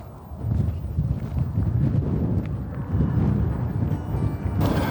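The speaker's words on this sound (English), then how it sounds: "So we've got the wind picking up quite a bit now." Gusty wind on an open countryside walk buffets the microphone with a loud, continuous low rumble that rises and falls in waves.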